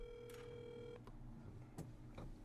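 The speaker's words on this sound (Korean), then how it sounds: "그래서 한번 전화 연결해 보겠습니다." A telephone line connecting for a call, heard as a faint tone that holds for about a second and breaks off, followed by a few soft clicks and taps. No one speaks.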